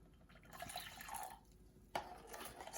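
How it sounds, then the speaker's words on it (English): Water poured from a jug into a smooth, sieved gummy mixture in a kitchen, giving a close, quiet trickle and drip that rises briefly near the end. "And then into that I'm going to add the water."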